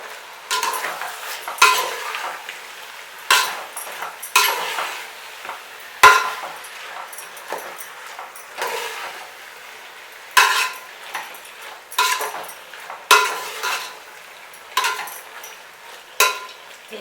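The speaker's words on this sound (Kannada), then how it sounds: "ಈಗ ಟೊಮೊಟೊ ಬೇಯೋದಕ್ಕೆ ಬಿಡೋಣ." A spoon scrapes and stirs through tomatoes cooking in a pan for vegetable pulao, in repeated close scraping strokes roughly every second or two over a faint sizzle, with no talk.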